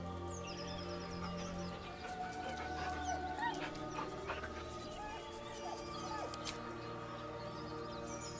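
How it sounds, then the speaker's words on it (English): A dog whimpering nervously in the video game Baldur's Gate, soft whines and yips over a steady tonal game soundtrack, with no speech. "The dog whimpers nervously,"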